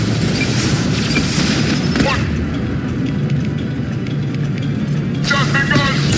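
Gunfire and a booming grenade blast from the video game Mass Effect 2 during a firefight, with loud bursts and explosions throughout and character voices calling out among the combat noise.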